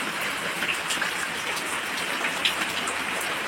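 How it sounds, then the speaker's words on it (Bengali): Heavy rain falling steadily around a house, a dense even hiss of drops with scattered sharper splashes, close and continuous throughout with no voices. "আরো জোরে আসছে বৃষ্টি।"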